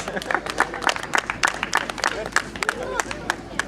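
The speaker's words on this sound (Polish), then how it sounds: "Brawa dla niego, Robert!" Crowd at an outdoor Children's Day strongman show claps and cheers for strongman Robert, a steady patter of close hand claps with scattered voices and shouts mixed in throughout.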